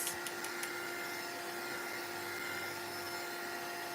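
A drying tool blows steadily on a wet liquid-acrylic collage, giving a constant close-up whooshing hiss with a faint whine that holds at one level throughout.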